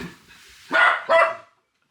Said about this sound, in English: We have a really, really loud barking dog